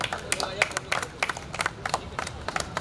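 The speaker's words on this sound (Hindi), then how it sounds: "तालियां बजती रहनी चाहिए आचार्य पटेल की शानदार प्रस्तुति के लिए।" Audience members at a theatre festival clap continuously, a lively mix of many hands with distinct louder individual claps standing out, fairly near and unbroken.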